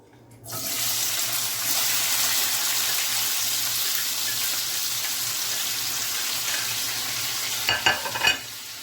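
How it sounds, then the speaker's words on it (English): Herbs hit hot oil on a stove with a sudden loud sizzle that holds as a steady hiss while being stirred, with a few clanks of a utensil near the end. "Now I'm going to pour in my herbs"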